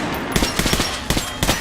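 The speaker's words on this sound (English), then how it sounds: "The Kalash is the workhorse of the Ranger arsenal. All right, Artyom. Head over to my range and try out these guns" A Kalash assault rifle fires on a shooting range in the video game Metro Last Light, a loud, close burst of several rapid shots with no voices.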